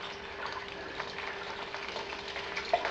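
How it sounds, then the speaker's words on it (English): Beer wort for a Munich Helles runs through a small aerator nozzle, giving a steady, soft, fizzing hiss of flowing, aerated liquid that stays close and even throughout, with no talking. "We've got that running through the little aerator nozzle, bringing a bit of oxygen"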